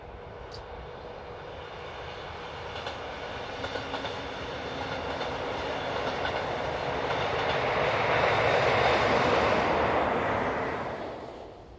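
Electric locomotive 111183 hauls a northbound train away from Tauberfeld station in spring, a broad rumbling roar that swells gradually to a peak and then eases off as it recedes, with no voices.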